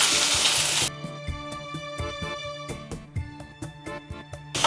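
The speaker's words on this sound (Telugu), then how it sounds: "ఈ ఉల్లిపాయలను గోల్డెన్ షేడ్ వచ్చే వరకు వేయించుకోవాలి" Onions fry in oil with a steady sizzle, joined by a series of sharp taps and scrapes from a utensil stirring in the pan.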